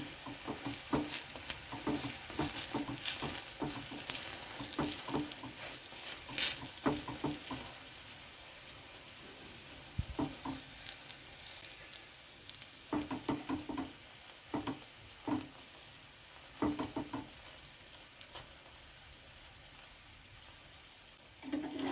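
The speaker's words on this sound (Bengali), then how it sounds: "এইভাবে আঁচকে ধিমি রেখে আস্তে আস্তে এইভাবে ভেজে নিতে হবে" Food fries gently in a pan over a low flame, a soft steady sizzle broken by intermittent scraping and stirring knocks, fairly quiet and close, with no talking.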